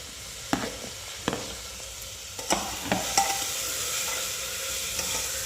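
Tomatoes sautéing in a pan with black chutney, chilli powder, garlic and coconut: a steady low sizzle broken by several sharp scraping strokes of a spoon against the pan, close and fairly quiet with no talking.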